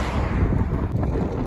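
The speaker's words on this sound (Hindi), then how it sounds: "उसके बाद शाम तक ऐसे ही खूब ठंडी तेज़ हवा चलती है।" Strong, cold mountain wind at the Zojila pass in Kashmir roars across the microphone in loud, continuous buffeting gusts, with no voices.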